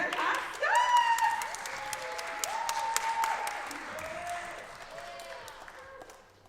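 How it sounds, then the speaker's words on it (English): An audience claps for the Red Hot Scots dance group while a voice talks over the start. Scattered sharp claps run under the talk and slowly taper off. "Can we please get a wonderful round of applause for the Red Hot Scots?"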